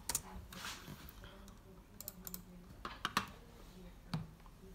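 Keys on an HP Pentium laptop keyboard tapped in quick irregular clicks, faint and close with a few sharper presses, nobody talking.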